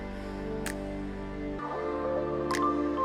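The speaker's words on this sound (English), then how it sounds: "there's drops of water that drop on your head as you're walking" Water drips twice, in sharp single drops, inside a damp lava cave in Hawaii Volcanoes National Park, over a low, steady hum.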